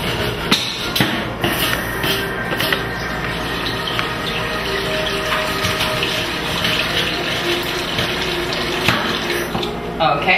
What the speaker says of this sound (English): Okay, so we got our water inside the pot.